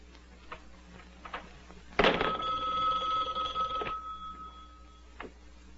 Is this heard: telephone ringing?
yes